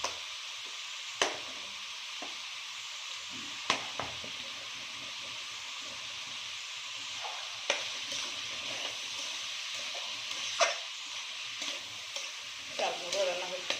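Rice cooks in a pan in a home kitchen, with a soft continuous sizzle under occasional sharp scrapes and knocks of a stirring spoon against the pan, fairly quiet and close.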